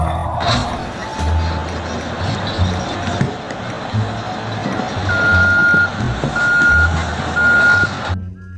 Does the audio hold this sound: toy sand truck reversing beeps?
yes